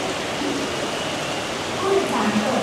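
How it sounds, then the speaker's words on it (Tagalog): Heavy rain falling outside in Bangkok, a dense steady hiss that fills the whole moment and swells slightly near the end, with faint voices mixed in. "Ngayon, ang lakas ng ulan."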